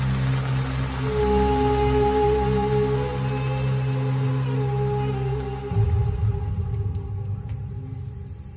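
Heavy rain drums steadily and densely on a taut tarp, a constant close hiss and patter that shifts slightly in texture partway through.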